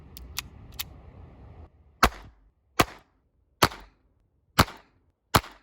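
A 1962 Astra Cub pistol fires at an outdoor range, five sharp, close reports spaced under a second apart and cracking loudly against near silence, after a few fainter clicks and muffled handling noise at the start.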